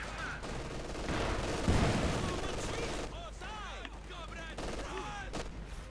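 Field gun fire in Company of Heroes 2 during a 1v1 match, booming shots in a dense battle mix with rumbling impacts and whistling shell sounds, loud throughout.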